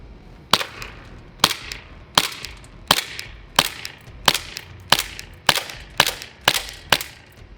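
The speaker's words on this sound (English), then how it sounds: "So let's shoot this Smith & Wesson" Nine sharp snapping shots from an airsoft Smith & Wesson M&P9C compact pistol, fired at a steady, roughly one-per-second pace, each crack loud and close with a short tail.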